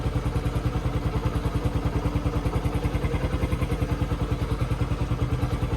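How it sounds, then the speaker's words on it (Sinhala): A motorcycle engine idles steadily just after starting, with a loud, close, even stream of rapid thumping pulses and a faint mechanical clatter on top, and no voices. "බයික් එක දැන් ස්ටාර්ට් කරලා තාප්පර 30ක් විනාඩියක් විතර තියන්නේ."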